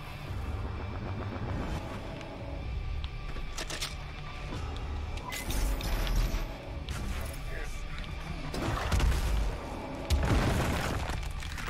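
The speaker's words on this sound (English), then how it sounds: "I hear shooting and stuff going on" Gunfire and explosions from the demon-fighting shooter Doom Eternal form a constant loud barrage, with heavy booming blasts and crashing impacts under a player's talking.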